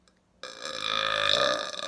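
A long, loud burp rises abruptly after a brief quiet moment and holds steady for well over a second, close and alone, with no talking over it.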